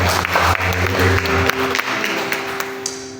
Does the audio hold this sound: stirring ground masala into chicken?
no